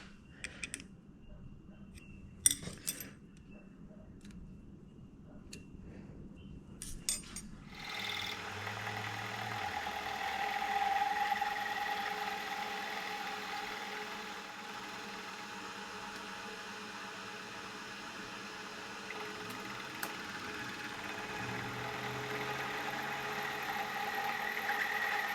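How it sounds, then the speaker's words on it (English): A boring head on a milling machine taking a light cut, a steady mid-pitched machine drone with a faint whir, preceded by a few quiet clicks and knocks before the spindle runs. "First time I've used the boring head on this mill."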